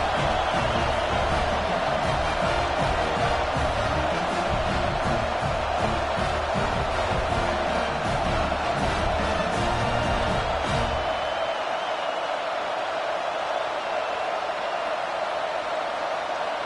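A football stadium crowd roars after an opening-kickoff return for an Auburn touchdown, a loud, steady wash of cheering that cuts off abruptly near the end, leaving fainter noise.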